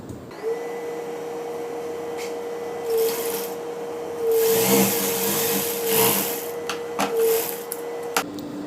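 A sewing machine stitches a semi Patiala pant, a steady close motor whine with bursts of faster rattling stitching and fabric rustle, stopping near the end.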